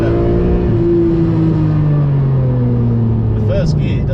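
A Lamborghini Murcielago LP670-4 SV pulls hard in first gear, its V12-type engine droning loudly and climbing steadily in pitch under continuous speech, with a brief higher whine near the end.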